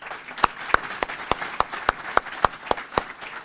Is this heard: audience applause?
yes